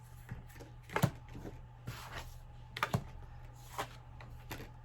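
Tarot cards being shuffled by hand, giving soft irregular riffling and slapping bursts at close range, with quiet pauses between the clusters and no talking.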